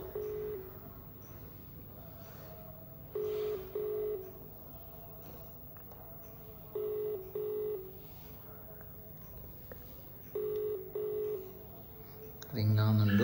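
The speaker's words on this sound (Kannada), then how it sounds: "ರಿಂಗಿಂಗ್ ಒಂದುಂಡು" An outgoing phone call's ringback tone: three double-pulse rings at a steady, even interval, heard clearly over a low, constant background hum, followed by a short louder burst at the end.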